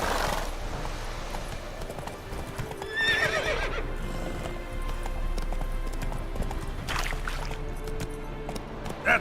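A horse in The Witcher 3 video game gallops with rhythmic hoof clip-clops, and a loud neigh rises early, then a second whinny follows later, over a background game soundscape.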